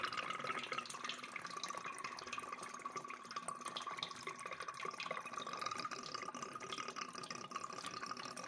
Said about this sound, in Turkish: Şöyle berbat bir su akar.